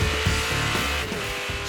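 Race car engine at high revs barrelling into a chicane, a loud, close, sustained broadband roar with the pitch dipping briefly midway, no talking.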